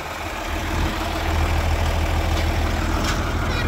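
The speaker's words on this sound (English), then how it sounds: "firing up the tractor so we can pull the motor out of the back of the truck" A tractor engine idles outdoors in a driveway at night, a loud, steady low rumble close by with no one speaking.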